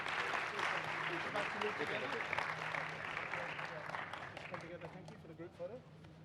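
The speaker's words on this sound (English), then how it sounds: "More, no, more applause. You can do more than that." Conference audience at a session on African innovation keeps applauding, dense clapping that slowly thins and fades while voices talk underneath toward the end.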